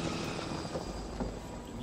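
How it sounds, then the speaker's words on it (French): A helicopter in the video game The Last of Us gives a steady, broad rotor and engine rumble, fairly distant and continuous, with no talking over it. "J'entends un hélico."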